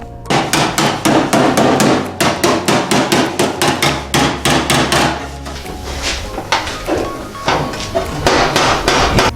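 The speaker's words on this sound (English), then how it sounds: "With some tools, we are trying to flatten the dent as best as we could." Steel hammer blows knocking a golf-ball-sized dent out of a 2015 Honda CR-V fender, a close, loud, steady series of sharp metallic strikes with ringing decay, slowing briefly midway before resuming.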